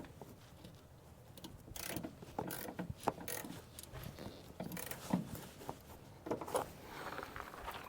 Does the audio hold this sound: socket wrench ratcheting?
yes